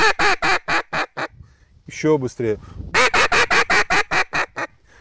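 Hand-blown duck call imitating a quacking hen duck, close and loud, sounding a rapid run of sharp quacks, then a brief spoken remark, then an even faster burst of quacks.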